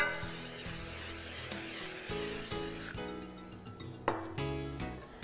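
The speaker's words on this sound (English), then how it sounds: "use an 11x7 baking dish and mist it with cooking spray." Cooking spray hisses in a steady, loud burst onto an 11x7 baking dish for about three seconds, then stops, leaving a couple of light clinks and taps against the glass dish over soft background music.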